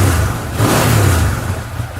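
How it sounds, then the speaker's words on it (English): A 2013 Arctic Cat Wildcat X side-by-side engine revs with a loping cam rhythm, a loud, close, throaty rumble that swells briefly and then settles back. "you can hear the cam in that motor"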